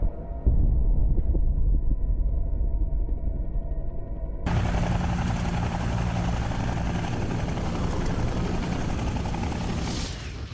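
Vietnam War helicopters coming in to land: a low mechanical drone gives way midway to a loud, steady roar of rotors and engines that continues to the end.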